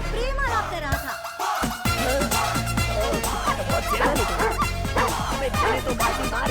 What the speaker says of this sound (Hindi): ये आपका कुत्ता है ना?